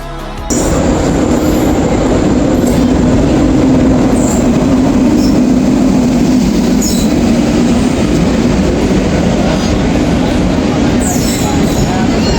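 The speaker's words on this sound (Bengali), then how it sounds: "ট্রেন এসে পৌঁছালো বোলপুর শান্তিনিকেতন।" A train pulls into Bolpur Shantiniketan station with a loud, continuous rumble of wheels and carriages, plus faint squeals and clacks, steady from start to finish.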